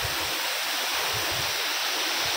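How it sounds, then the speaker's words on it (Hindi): Khabru waterfall plunges from a great height in cold weather, making a loud, constant roar of rushing water that fills the whole clip without pause. "तो भाई ये देख लो, ये है खबरू वाटरफॉल।"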